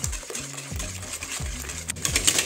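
Five eggs are beaten together for an Ecuadorian carrot cake batter, giving a steady rhythmic stirring and clinking in a bowl, close and alone with no talk.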